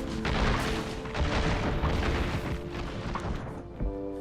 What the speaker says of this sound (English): Her ultimate is a missile barrage.